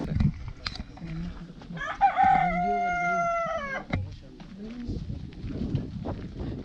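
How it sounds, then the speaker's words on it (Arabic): Roosters crowing on a farm at Taba Heights, one long harmonic crow standing out mid-clip over clucking fowl and background people talking nearby. "لا ده ديوك"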